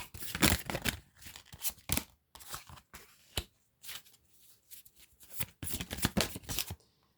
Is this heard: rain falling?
no